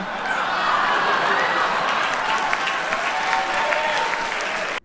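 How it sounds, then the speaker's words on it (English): An award show audience fills a building with loud, sustained applause mixed with laughter, a dense, continuous roar of clapping that holds for nearly five seconds before stopping abruptly. "the whole building laughed and applauded"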